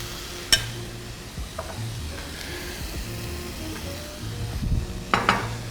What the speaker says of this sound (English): we need to put all the fish inside after onion and garlic.